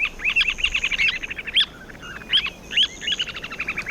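Semipalmated plover calling, a series of bright, clear chirping notes in quick rhythmic bursts with short pauses, moderately near and alone against quiet background.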